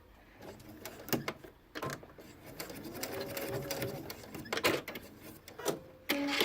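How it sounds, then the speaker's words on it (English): A sewing machine stitches an invisible zipper in short motorized bursts separated by brief pauses and small handling clicks. The stitching is close and clear, with a longer run in the middle. "I'm going to make sure not to sew past that mark"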